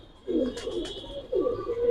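Pigeons coo at a pigeon market, two soft, throaty coo phrases close by, over faint background murmur.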